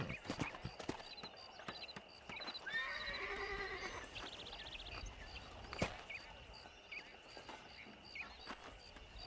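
A horse whinnies in the Western video game Red Dead Redemption, a rising, quavering neigh of a couple of seconds standing out over ambient outdoor game sound, with scattered hoof clops and clicks around it.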